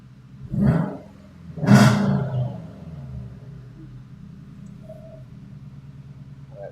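Failing turbo on a Subaru EJ20 engine gives a hollow, owl-like hoot and roar as the revs rise and fall, two swelling pulses followed by a lower settling engine rumble.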